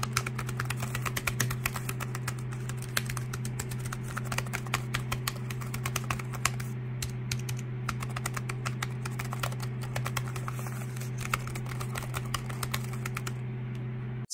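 Soft, rapid keystrokes patter unevenly across a quiet XK01 tri-fold Bluetooth keyboard over a low steady hum, with brief pauses and no voices.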